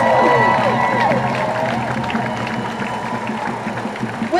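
A crowd at a Black Lives Matter rally at the Daley Center in Chicago applauds and cheers for the Chicago Teachers Union vice president, a loud, dense wash of clapping and whoops that slowly fades.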